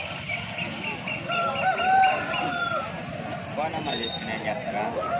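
A rooster crows amid a busy Sunday chicken market in Pileru, its call rising over dense background chatter and other fowl clucking nearby.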